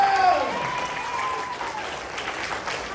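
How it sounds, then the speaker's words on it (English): An elementary school audience applauds in a fairly quiet, roomy wash, with a cheer and some voices at the start. "Let's give a round of applause."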